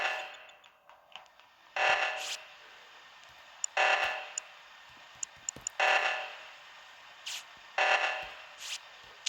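An Among Us emergency meeting buzzer sounds in repeated loud bursts, each a harsh broadband blast about two seconds apart, with small ticks and clicks in between and no talking.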